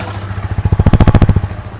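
A Yamaha R15 V4 motorcycle engine starting and settling to idle, a quick run of loud rhythmic firing pulses that peak and then fade back down, close by with no talking.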